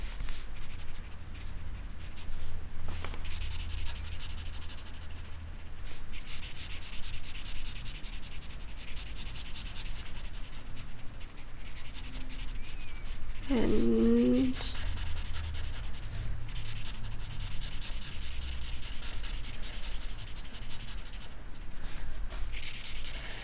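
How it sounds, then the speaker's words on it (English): Markers rub steadily across paper while a ladybug picture is coloured in, a soft continuous scratchy stroking that runs close and even throughout, with one brief tonal squeak midway. "try not to press really hard while coloring, because then you can see your paper will start ripping"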